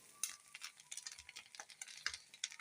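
A spoon scraping and stirring rice in a cooking pot, soft irregular scrapes and gentle sizzling, quiet and close with no talking.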